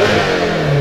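A Honda S2000 with an aftermarket exhaust revs hard, a loud close-up engine roar that holds and climbs briefly without pause.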